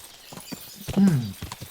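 Horse hooves clip-clop along a road in the medieval video game Kingdom Come: Deliverance II, a few soft hoof hits mixed with a louder thump and game sounds, with someone talking over them.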